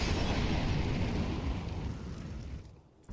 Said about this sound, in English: I'd love to see where that flashbang lands.